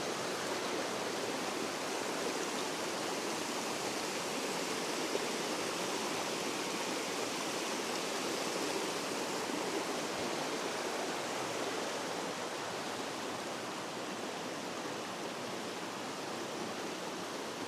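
Fast-flowing stream water swollen with snowmelt rushes steadily and loudly, a dense continuous roar with no pauses and no voices.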